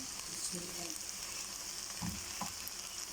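Okra frying in a pan crackles and sizzles at a low, steady level as tomatoes go in, with a couple of soft stirring thumps near the end.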